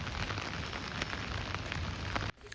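Steady rain patters down on surfaces in Mysore, a dense even hiss with occasional heavier drops, close and moderately loud before cutting off abruptly near the end.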